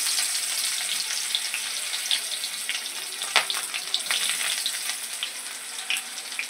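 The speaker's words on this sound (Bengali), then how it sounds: "পেঁয়াজ কুচি দিয়ে দিলাম" Chopped onions fry in hot oil along with cumin seeds and bay leaves, giving a steady, close, bright sizzling hiss that runs throughout with small crackles and pops.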